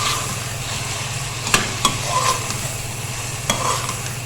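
Diced medium tomatoes and green chilies hit hot oil in a pot for chicken biryani, giving a steady sizzle with a few sharp clicks and scrapes as they are mixed in. Nobody speaks.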